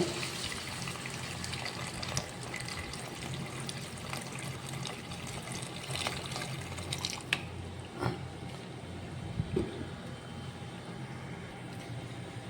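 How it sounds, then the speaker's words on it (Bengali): Hot water pours into a pan of cooked fish curry masala, a soft steady stream and trickle that cuts off partway, followed by a few quiet splashes and kitchen clatter. "এবার জল দেবো, গরম জল দেবো এতে"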